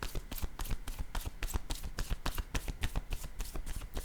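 Tarot cards are shuffled quickly and steadily, a dense run of crisp riffling clicks close up, continuing without pause.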